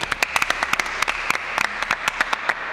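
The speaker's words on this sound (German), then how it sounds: "Das einmal kurz Applaus." Brief applause from a small group at a cheerleading talent contest, with scattered individual claps standing out sharply over a steady background patter, fairly close and moderately loud.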